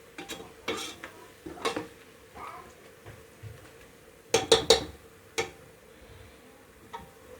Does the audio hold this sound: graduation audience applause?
no